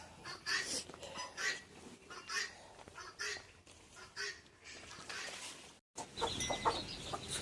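Guinea fowl call in a run of harsh, repeated honking cries from birds close by, rising and falling in bursts with a brief gap of silence before the calls resume.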